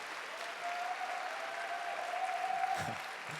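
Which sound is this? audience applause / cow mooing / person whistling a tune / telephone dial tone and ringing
audience applause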